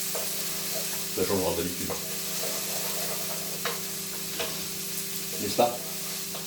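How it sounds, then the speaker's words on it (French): Onions sizzle in a pan with a steady crackle while being stirred, with occasional scraping stirs up close. A short bit of conversation is heard over the frying. "Allez, on remue. On évite de faire brûler ces oignons."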